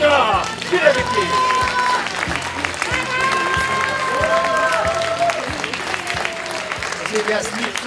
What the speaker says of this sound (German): Und jetzt bitte ich Sie um den kräftigsten Applaus, der Ihnen möglich ist.